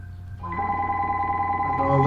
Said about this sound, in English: Phones are ringing already.